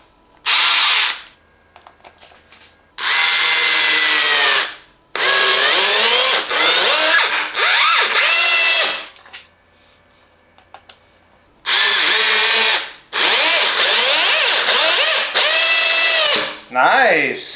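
A Parkside PABH 20-li C3 cordless hammer drill drives two small screws in repeated loud, close whirring runs of one to three seconds each. Its pitch rises and falls as the screws seat, with short pauses between runs.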